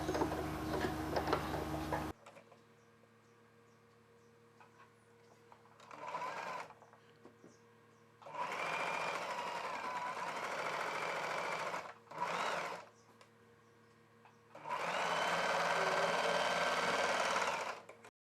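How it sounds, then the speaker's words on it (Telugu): A sewing machine stitches the edges of a fabric face mask in several bursts of rapid, steady ticking, with quiet pauses between runs. "ఈ 2 ఎడ్జెస్ని కలిపి మరలా ఒక కుట్టు వేసేసుకోవాలి"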